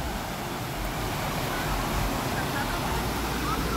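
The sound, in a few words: waterfall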